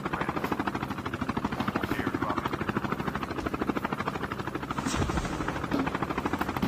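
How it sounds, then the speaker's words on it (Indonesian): A helicopter in the mobile shooter Call of Duty Mobile flies steadily, its rotor chopping in a fast, even pulse with a buzzing drone, close and continuous without speech. "Ada helikopter, udah bertahan dulu di helikopter aja, terbang."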